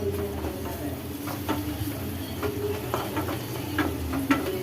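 Finely chopped onions sautéing in oil in a pan for a spicy paneer masala, giving a soft continuous sizzle with scattered stirring clicks and scrapes, and a voice talking faintly underneath.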